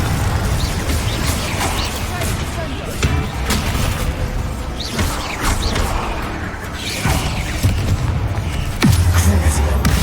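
Spell blasts from the video game Hogwarts Legacy burst in repeated sharp booms and pops amid a busy combat mix, with a heavier thump near the end, under a steady game soundscape.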